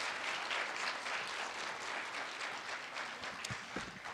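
An audience at a Meharry Medical College event applauds to welcome the college's president, a steady, moderately distant wash of clapping that holds for about four seconds with a few louder nearby claps near the end.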